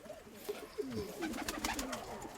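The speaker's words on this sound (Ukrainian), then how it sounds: "Оцей голубок щось пострадав, я бачив по ньому." Pigeons in a dovecote give soft, throaty cooing calls that rise and fall in short rolling phrases, close by but quiet, with no voices.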